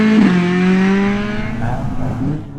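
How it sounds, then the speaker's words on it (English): Rear-wheel drive Ford Fiesta rally car with a red top engine, racing on a winter stage at St Angelo, its engine loud and close, revving high then easing off with a brief tyre squeal early on. "Ryan Hunter is 7th in his rear-wheel drive red top powered Fiesta."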